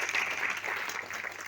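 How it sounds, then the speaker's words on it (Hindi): Seminar audience in a Delhi hall giving a burst of applause, steady mid-distance clapping from many hands that tapers slightly toward the end. "जोरदार ताली आप सभी के लिए।"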